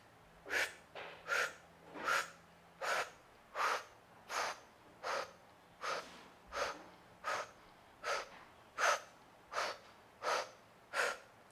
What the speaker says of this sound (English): So I'm sipping air in, and it's as though I'm trying to sip air through a straw down and fill up my belly